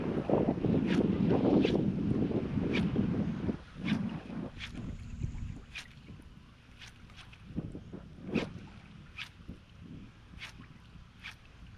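Heavy wind sweeps across the water during topwater fishing, blowing steadily with rumbling buffets on the microphone, while faint, sharp ticks and clicks repeat throughout.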